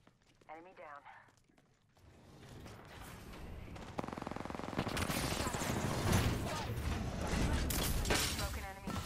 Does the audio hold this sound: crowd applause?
no